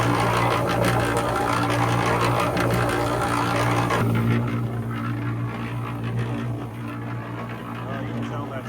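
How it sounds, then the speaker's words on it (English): A propane weed-burner torch roars loudly with a steady low-pitched rumbling drone while someone talks over it, the roar easing somewhat after the first few seconds. "So I have this propane torch."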